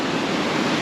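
The River Prosen, a Scottish river, flows loud and close beneath a bridge, a steady broadband rush of running water with no break across the short stretch.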